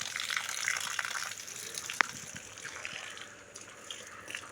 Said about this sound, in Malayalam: അപ്പോൾ ചെടി നനച്ചുകൊണ്ടിരിക്കുകയാണ്.